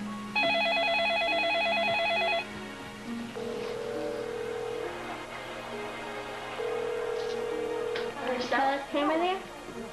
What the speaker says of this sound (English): went to call on the portable phone